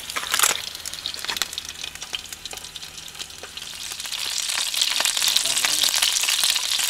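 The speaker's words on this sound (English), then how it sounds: "Sausages on the go there." Sausages frying on a small Campingaz Camp Bistro portable stove outdoors, a close, steady crackling sizzle that grows denser and louder toward the end, with a few sharp pops and clicks.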